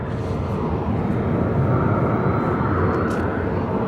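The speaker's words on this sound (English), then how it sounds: "This is another aircraft I've actually flown on, N904" A passenger airplane at Phoenix Sky Harbor airport gives off a steady, loud, broadband engine roar that holds constant and close throughout, with no speech.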